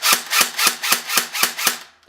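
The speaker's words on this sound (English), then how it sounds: "that is the sound of an empty gun." Empty airsoft M16 rifle dry firing: eight sharp, evenly spaced mechanical clacks in a quick steady rhythm, close and loud, with no other sounds.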